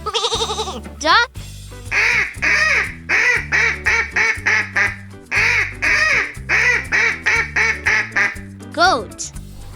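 A duck quacks in a long rapid series of loud, nasal, evenly spaced quacks close by, bracketed by brief higher calls at the start and end.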